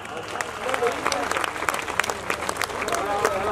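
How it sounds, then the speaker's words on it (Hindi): Steady, dense applause from a crowd at a live Rajasthani guru mahima bhajan gathering while a guru is honoured with garlands, continuous throughout with voices mixed in beneath. "तालियां बजाएं सब लोग।"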